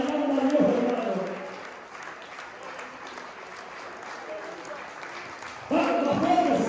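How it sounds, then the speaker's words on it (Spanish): Church congregation clapping in praise, steady rhythmic hand claps running throughout, with a voice speaking over them at the beginning and again at the end. "Aplaudiendo y alabando a Dios"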